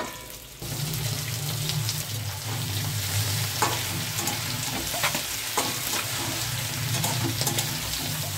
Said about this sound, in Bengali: আবার এরকম নেড়ে ঢাকনাটা দিয়ে দেবো।